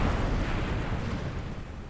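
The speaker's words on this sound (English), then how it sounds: "Well, that was one hell of an explosion." A rocket blows up in Kerbal Space Program: a broad, low rumbling roar that starts loud and slowly fades over about two seconds, with no voices.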